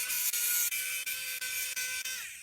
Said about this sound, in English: Then unscrew all the screws.